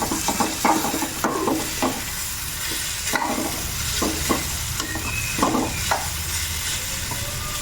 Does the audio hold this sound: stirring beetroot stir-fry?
yes